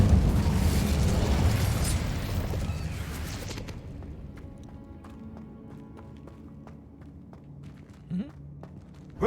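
An Incendio fire spell bursts in Hogwarts Legacy: a loud, roaring blast of flame that holds for a few seconds, then fades into a quieter background with light scattered game sounds.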